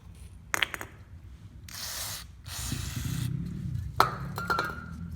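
Carburetor cleaner sprays in short hissing bursts into the small jet of a Poulan lawnmower carburetor, close and sharp, between light metallic clinks and scrapes of handling.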